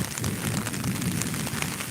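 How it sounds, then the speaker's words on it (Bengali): Heavy rain falls in Sylhet, a dense, steady wash of drops pattering on surfaces with no pause, loud and even from start to finish. "সকাল থেকে প্রচুর পরিমাণ বৃষ্টি সিলেট।"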